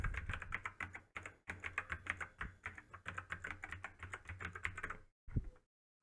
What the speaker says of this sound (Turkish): Hemen mail adresimi yazıyorum.